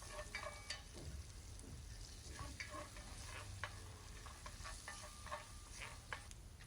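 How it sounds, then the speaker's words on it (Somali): Finely chopped onion fries in oil in a cooking pot, a quiet steady sizzle with light crackles and occasional stirring ticks. "xoogo saliid ayaan kusoo darsaday sila digsigii iyo basal oo si yar soo jartay"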